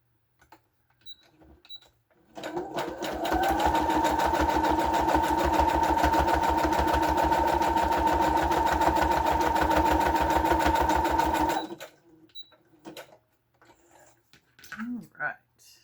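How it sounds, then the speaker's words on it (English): A sewing machine stitches a junk journal page in one long, steady run of rapid, even mechanical chatter, close and loud, with brief quiet handling sounds before and after. "And we've got one more here to sew."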